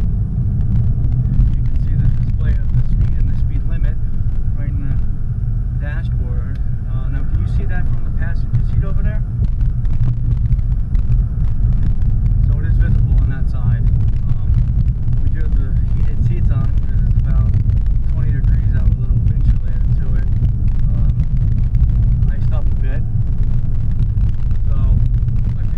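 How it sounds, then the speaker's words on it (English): Cadillac XTS VSport with a twin-turbo V6 pulling away from a standing start, a steady loud low engine rumble with road noise throughout, sustained and close, with a voice talking over it. "This is a twin turbo V6. Okay. And let's do a little takeoff and see how we do with that."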